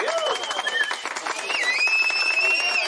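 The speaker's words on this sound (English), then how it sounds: "I think that deserves an applause" An audience breaks into applause, a steady wash of clapping and crowd noise that holds throughout, with whistles rising over it.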